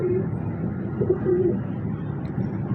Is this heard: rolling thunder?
no